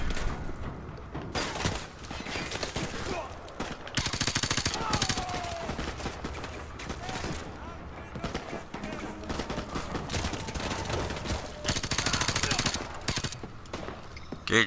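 Rapid automatic gunfire and bursts of shots from Call of Duty: Modern Warfare Remastered campaign combat fill the scene continuously, loud and dense with brief lulls, while a player talks intermittently over it.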